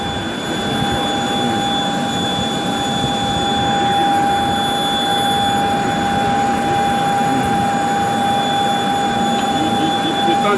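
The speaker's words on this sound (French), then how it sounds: "Il y a beaucoup d'avions, oui, dans l'air." Jet aircraft engines roar steadily at Goma airport, a loud sustained turbine rumble with a high whine running throughout, heard close and without talk.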